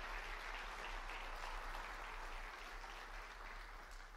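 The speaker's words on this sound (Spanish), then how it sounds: "Dale un fuerte aplauso a la palabra viva del Señor" A church congregation claps after a sermon, a steady, even wash of applause that stays fairly faint and distant throughout.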